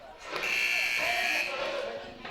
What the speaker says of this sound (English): as the first buzzer sounds, getting back into the ball game